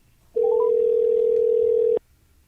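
A telephone ringback tone plays as a sports talk show dials out to a caller: one loud, steady, unbroken tone lasting about a second and a half, with no talking over it.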